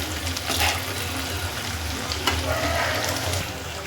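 Sabudana vadas frying in a pan of hot oil, a loud continuous close sizzle and bubbling that holds steady throughout, with no voices.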